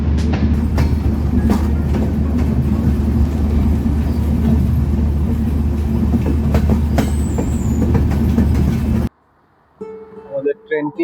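A loud, steady rumble of the Drutojan Express train departing a station, with rhythmic clattering wheels, rolling continuously before cutting abruptly to quieter sounds.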